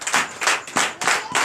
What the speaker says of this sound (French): Donnez de vive acclamation au Seigneur